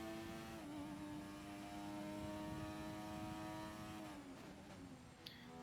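McLaren Formula 1 car engines at Silverstone, a sustained high harmonic engine tone that holds steady, then dips and fades near the end, with a brief click late on.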